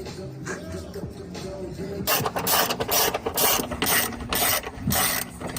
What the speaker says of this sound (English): Crescent wrenches, because I don't have the right size wrenches.